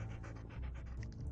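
A dog pants in a video game, quick rhythmic breaths close up and fairly soft, a brief burst with no talk.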